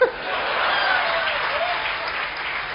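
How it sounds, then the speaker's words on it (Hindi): An audience claps in steady applause, a dense, even patter that stays loud from start to finish after a brief sharp onset. "ताली आप इस बात पर बजाएंगे"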